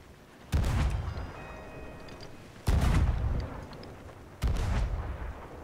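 Three heavy ship cannon shots in Sea of Thieves, each a loud booming blast followed by a rumbling decay, spaced about two seconds apart with no voices between them.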